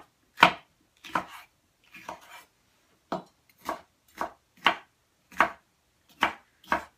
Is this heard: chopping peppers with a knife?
yes